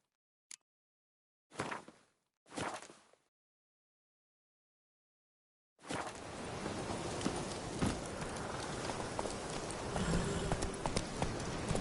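In The Witcher 3: Wild Hunt, a few isolated hoof clops, then silence, followed by a steady wash of dense clattering and rumbling noise, like hooves pounding along.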